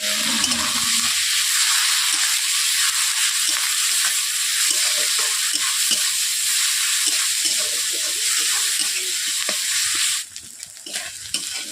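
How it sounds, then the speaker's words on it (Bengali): Onion, ginger and garlic paste frying with salt in a pan for a fish curry makes a loud, constant sizzle close by, with stirring scrapes through it, then the hiss drops away near the end. "পেঁয়াজ আদা রসুনের বাটা একসঙ্গে আমি দিয়ে দিচ্ছি পেঁয়াজ গলে যাওয়ার জন্য হালকা করে নুন দিয়ে দিচ্ছি"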